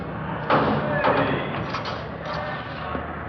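A heavy door slams shut in a jail corridor, a single loud thud with a short clatter and ringing after it, followed by lighter knocks and shuffling under a murmuring room tone.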